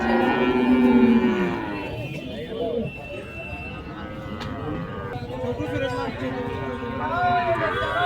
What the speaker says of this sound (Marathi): पाहू शकता तुम्ही सर्व गायी.